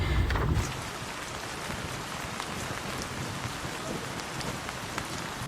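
Steady light rain from Typhoon Enteng in Central Luzon falling on a surface, a continuous dense hiss with scattered drops, close and even throughout.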